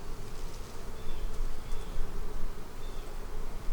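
Dense, steady buzzing of many honeybees close by during a fall hive inspection, a continuous swarming drone with no voices.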